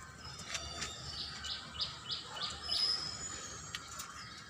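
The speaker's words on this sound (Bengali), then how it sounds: "ঘুঘু পাখি, কবুতর, কবুতর আছে, কবুতরের বাচ্চা আছে, এদিকে কবুতর আছে।" Birds call faintly across a rooftop garden where doves and pigeons are kept, a few short chirps and a quick series of soft notes over a quiet background.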